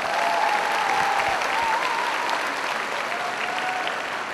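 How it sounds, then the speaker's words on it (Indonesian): Steady applause from an audience at a community event in the multipurpose hall of UIN Sunan Kalijaga, Yogyakarta, dense clapping filling the whole span at an even level with a faint tonal whine over it. "Tepuk tangan sekali lagi untuk Plengkung Gading Gemari."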